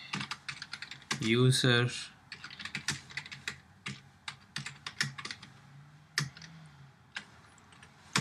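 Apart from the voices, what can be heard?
typing code on a computer keyboard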